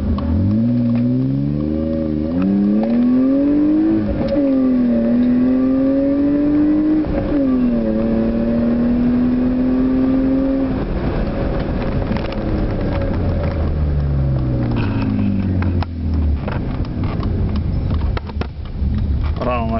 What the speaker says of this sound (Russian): Ладно, попробуем на разгоне.